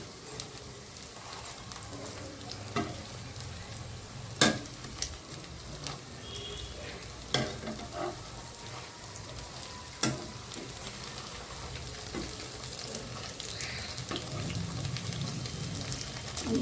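Flour-coated paneer koftas fry in oil with a steady bubbling sizzle, and a few sharp knocks and clinks of a utensil against the pan cut through it.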